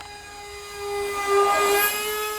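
Dynam Cessna 550 twin 64mm electric ducted fan model jet making a low pass, a steady high-pitched whine that swells as it passes close and then holds.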